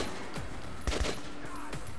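Gunfire from the video game Metro: a few sharp shots crack out in quick succession over a low background hum, with two close bursts near the middle.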